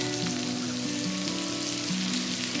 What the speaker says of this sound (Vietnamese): Mình sẽ cho một xíu dầu ăn, rồi phi hành và tỏi và ớt đã băm cho thật thơm